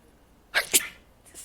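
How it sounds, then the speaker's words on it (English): A single person's sneeze, a sharp two-part burst with a quick inhale then the explosive release, close and fairly loud against a quiet background, followed by a faint rustle. "The sneeze was fiending to come."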